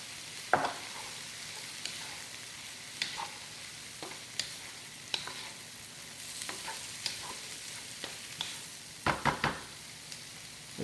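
Pan-frying with the white parts of four green onions, a steady sizzle sounding under sharp clacks and scrapes of a utensil stirring, with a cluster of louder knocks near the end; no one speaks.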